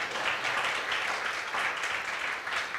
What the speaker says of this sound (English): I would like you to give a big round of applause to our speakers and panelists